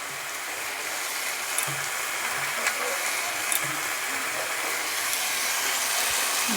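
Mixed vegetables being stir-fried with chopped coriander leaves, cooked in fish oil, giving a steady soft sizzle with faint stirring scrapes throughout, no talking.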